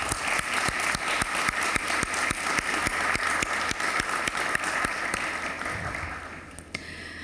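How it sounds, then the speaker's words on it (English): Sustained applause from an indoor crowd at an airport send-off event for Afghan evacuees in Albania, dense steady clapping that continues for several seconds before tapering off near the end. "have a clap for all of your support that you did and done for us"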